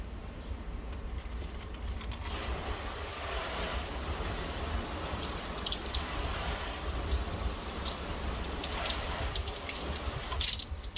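Steady broadband splashing of water pouring onto a car lid treated with ceramic detail spray, continuous and fairly close, with no voices.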